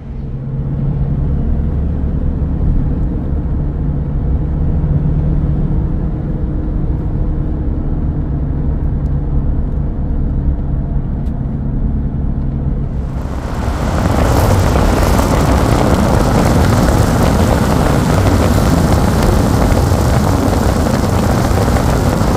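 Arrivo Terramax PRO AT all-terrain tires rolling on the road, a steady low rumble at first that jumps to a much louder, broad roaring hiss partway through and stays loud to the end.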